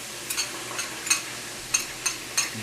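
Horseradish cocktail sauce being stirred in a bowl while soft shell crab is prepared, giving a handful of light, irregular scraping and clinking taps that sit close and fairly quiet over a faint background hum.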